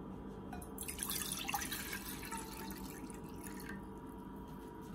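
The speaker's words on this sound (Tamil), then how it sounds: "பாத்திரத்தை அடுப்புல வச்சு அதுல 2 கப் தண்ணி சேர்த்திக்கிடுவோம்." Two cups of water are poured into a pan on a stove while making pineapple rava kesari, a faint, close splashing trickle that swells for a few seconds and then settles, with no talk.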